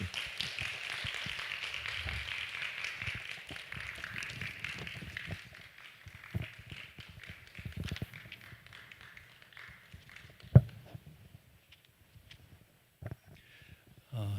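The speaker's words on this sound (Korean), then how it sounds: "우리 박수로 우리 맞이하겠습니다" A church congregation claps in welcome for a visiting professor about to preach, a dense roomful of applause that thins out after about six seconds into scattered claps and small noises.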